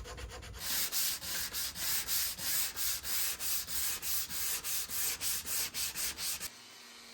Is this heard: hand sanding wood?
yes